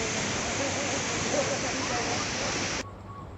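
Kanchenjunga Falls in Sikkim pours with a dense, loud, continuous rush of falling water heard close up, then the roar drops sharply just before the end.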